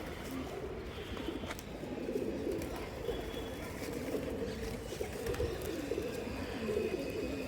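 Pigeons coo softly at a loft, low murmuring calls repeating under a faint, constant background hum.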